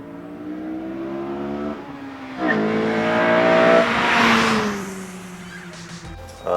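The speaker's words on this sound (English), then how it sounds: "The induction noise that this intake provides, it really complements Vtec, really complements K20." Honda Civic Si with a K20 VTEC engine and a K&N Typhoon intake, revving hard: loud rising engine harmonics with strong intake induction roar, climbing through two pulls, then easing off and dropping back.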